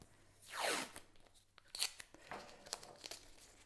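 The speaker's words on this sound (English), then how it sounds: "I'm going to take some masking tape and stick the top down" Masking tape is pulled and torn from the roll and pressed down while building a model waterfall, with a rising rip followed by scattered crinkles and taps, close and fairly quiet.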